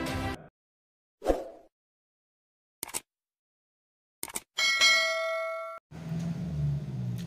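A notification bell ding effect: a few short clangs and clicks, then a bright ringing ding that sustains for about a second before a softer noisy tail, with no speech.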